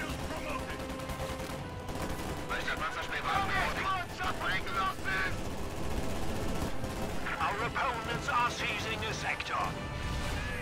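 A flame burst erupts during a battle in the strategy game Reign 2, within a dense, continuous clatter of gunfire, crashes and bursts that holds at a steady loudness throughout, with voices mixed into the din.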